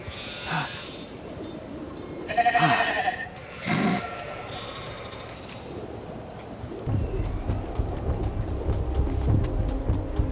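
Sheep bleating in the video game The Alters, a few separate calls in the first four seconds over a low ambient rumble that swells later, with no one speaking.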